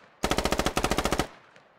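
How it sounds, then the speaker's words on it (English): Rapid automatic gunfire in the Squad video game, a single loud, close burst of about fourteen evenly spaced shots in quick rhythm, ending in a brief echo. "I don't know what they're shooting at"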